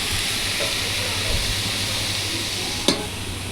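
Ash gourd with prawns and onion simmers in a covered pot on a gas flame, giving a steady, close hiss and bubble throughout, with one sharp click near the end.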